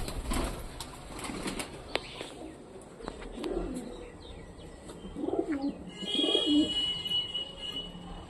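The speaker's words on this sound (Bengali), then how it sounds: "এবার আমাদের পায়রাগুলোকে ছেড়ে দেবো" Madras, Paschima and Kalasabuj pigeons coo softly and repeatedly as they are released, with bursts of wings flapping and a few chirps mixed in, fairly close by.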